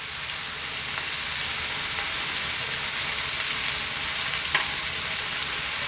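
Garlic and onions fry in a pan over medium heat for a shakshouka, giving a steady, loud sizzle with faint crackles and an occasional pop throughout.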